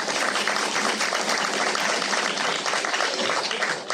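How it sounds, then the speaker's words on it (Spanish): Audience applause at a podcast event in Aragón, a dense steady wash of clapping from a room full of listeners, fairly even in loudness throughout with no talk over it. "un aplauso para ella"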